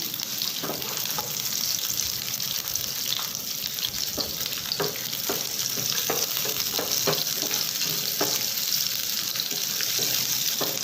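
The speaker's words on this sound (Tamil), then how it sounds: "ஒரு கப் வெங்காயம் சின்ன வெங்காயம் போட்டுக்கலாம் அதையும் நல்லா ஃப்ரை பண்ணிக்கலாம்" Small onions frying in oil in a pan for mint chutney, a steady close hiss of sizzling with periodic sharp spoon scrapes and clicks throughout, and no voices.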